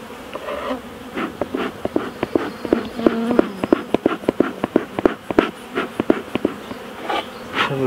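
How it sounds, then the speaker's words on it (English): A dense, steady hum of many bees buzzing up close in an opened hive, punctuated by sharp clicks and knocks of handling. "there's a lot of bees in here"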